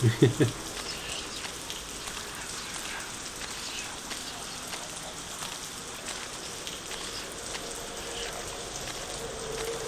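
Heavy rain pours steadily in the survival horror video game White Day 2, a dense, loud, continuous hiss of drops beating on surfaces that fills the whole stretch, with a few soft thumps at the very start.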